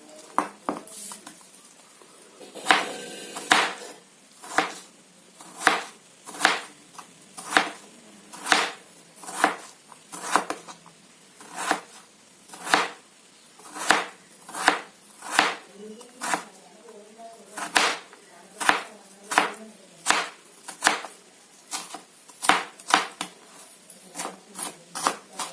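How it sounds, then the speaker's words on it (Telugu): A knife chops ingredients thinly on a cutting board for an omelette, giving a long series of sharp, evenly spaced chops close up, each a crisp tap. "సన్నగా కట్ చేసుకోండి"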